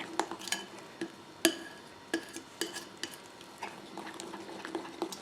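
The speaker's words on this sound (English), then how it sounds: "Quickly give this a bit of a stir." Royal icing stirred by hand with a palette knife, giving soft scraping swishes punctuated by sharp clicks and taps of the blade against the bowl, close and unhurried with no talking.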